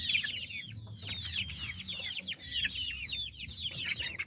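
Rhode Island chickens cluck in a new coop: a close, busy chorus of overlapping clucks and short chirpy calls, fairly quiet overall, with no voices.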